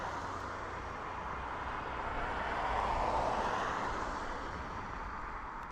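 A Boeing Dreamliner airliner at Dublin Airport gives off a steady, distant broadband jet engine roar that swells gently midway, with no voices.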